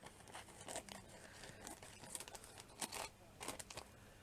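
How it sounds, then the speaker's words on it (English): A plastic bag crinkles and rustles in quick, irregular bursts of handling, close but very quiet, with no talk. "Plastic bag."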